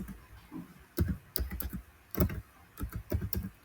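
Computer keyboard typing: bursts of quick, close clicking keystrokes in short clusters separated by brief pauses, fairly quiet and with no talking.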